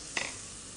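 Rice stuffing for stuffed roast chicken gets stirred in a pan, a single faint scrape of the spoon over a soft, low sizzle.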